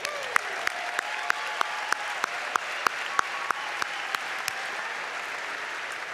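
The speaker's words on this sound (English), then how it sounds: "Let's give our choir another round of applause" Applause for the choir at a Cal Poly fall commencement ceremony, a steady wash of distant crowd clapping with a few sharper claps cutting through at a regular pace.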